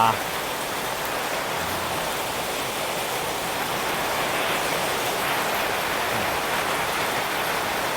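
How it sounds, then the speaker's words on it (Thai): Steady, dense daytime rain pours down without a break in the hot season, a constant hiss of drops striking a roof and surfaces nearby. "ฝนตกกลางวัน โอ้โห ไม่คิดไม่ฝันว่าจะมีฝนครับวันนี้"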